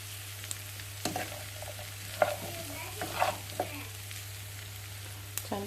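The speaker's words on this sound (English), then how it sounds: "And fry that and just combine the onions with the cauliflower." Onions and cauliflower frying in oil for a low-carb keto mac and cheese, a soft steady sizzle with a few light clicks of stirring over a low constant hum.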